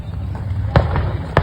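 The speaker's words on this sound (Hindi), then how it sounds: "धमाकों की आवाज सुन सकते हैं।" Explosions at a burning firecracker factory in Bharwari, Kaushambi, two sharp loud bangs about half a second apart over a steady low rumble of background noise.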